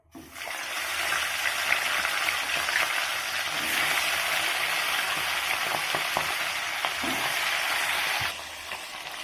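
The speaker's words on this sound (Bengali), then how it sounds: "এবার এক এক করে মাছের মাথাগুলোকে আমি ভেজে নেব।" Rohu fish heads frying in hot oil in a wok give a loud, steady hiss and crackle lasting several seconds, with a few sharp spits, easing slightly near the end.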